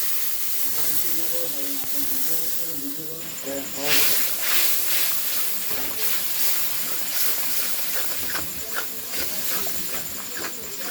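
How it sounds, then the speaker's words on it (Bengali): Water added to salted, sugared spices in a hot pan for a katla fish kalia sets off a loud, bright sizzle that swells after a few seconds, while a voice talks in the background. "এখন সামান্য একটু জল দিয়ে দিচ্ছি"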